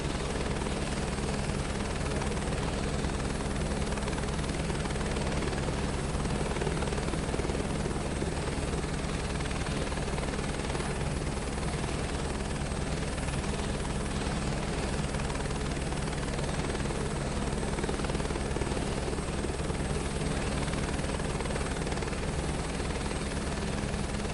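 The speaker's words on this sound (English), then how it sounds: "I hate taxiing in a helicopter." A helicopter taxiing in Microsoft Flight Simulator 2024 produces a loud, constant rotor thrum with engine whine that holds unchanged throughout, close and with no talking.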